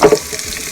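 Onion hitting a hot pan for sautéed bamboo shoots, a quick burst of sizzling and frying that settles into a short steady crackle, close and fairly loud.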